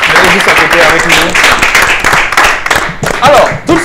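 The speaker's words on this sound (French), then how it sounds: "Alors, on va t'applaudir, on va te souhaiter vraiment bon vent." Studio audience clapping on a live variety show while a host keeps talking over it, the applause dense and loud, mixed with voices throughout.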